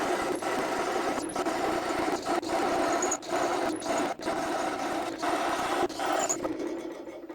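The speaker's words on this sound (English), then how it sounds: "I'm using a circle cutter." Circle cutter cutting curved plywood supports on a drill press, a steady high whirring grind broken by several short pauses, close and fairly quiet, winding down at the end.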